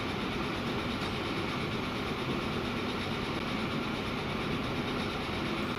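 Trains running on railway tracks in the Transport Fever 2 video game, a steady dense rumble and rolling rail noise that holds evenly throughout, with no talking.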